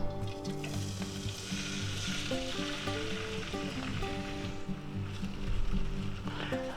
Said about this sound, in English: now that our pan's nice and hot here, we're going to add our sliced potatoes here